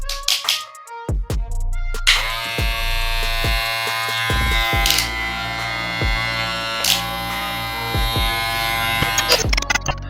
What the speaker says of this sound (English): It's quieter with ceramic cutter blade.